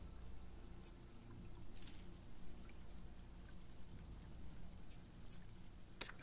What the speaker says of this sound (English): You're gonna take a shower.